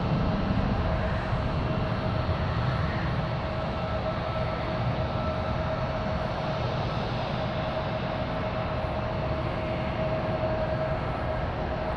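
An airliner taking off from Oakland, a sustained broad engine roar with a steady mid-pitched tone running through it, loud and continuous for the whole stretch without voices.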